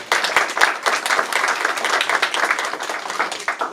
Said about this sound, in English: let's give the governor and the legislature a round of applause for that.